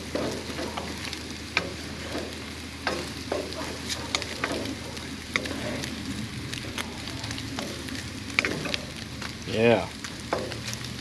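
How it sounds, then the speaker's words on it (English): Pork fried rice is stir-fried in a hot pan, with a dense, steady crackling sizzle and repeated scrapes and tosses, close and loud, while a voice briefly speaks over it. "to stir fry this up for about another minute. I'm getting a nice good crisp on all of this"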